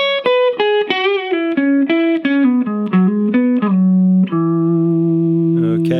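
Two electric guitar licks from a song's solo, played back to back as a run of quick picked notes that descends and settles into one long sustained note, loud and without talk.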